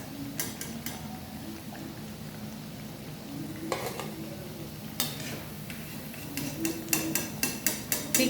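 Pakoras made from pea lentil batter fry in hot oil with a steady, fairly quiet bubbling hiss, broken by sharp clicks and taps that cluster toward the end; no one speaks.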